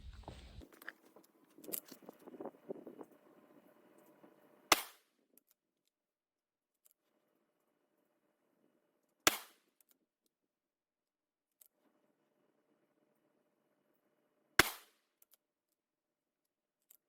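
Three sharp rifle shots from a 6.5 Creedmoor loaded with Hornady 123 grain ELD bullets over Reloder 15 powder, evenly spaced several seconds apart, each a brief loud crack in quiet surroundings after some early handling rustle.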